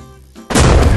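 A landmine blows up in the video game Guts and Glory: a sudden loud, booming burst cuts in after a quiet moment and roars on without any voices.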